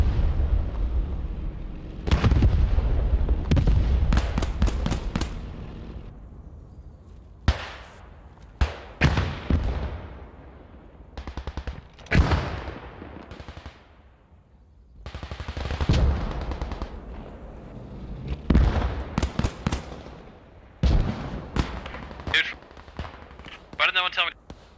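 Bursts of rifle and machine-gun fire aimed at a Panzer III tank crew in the World War II shooter Post Scriptum, loud sharp cracks and rattling volleys with echoing tails, irregular across the stretch, with occasional voices between shots.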